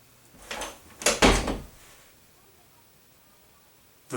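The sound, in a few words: door being opened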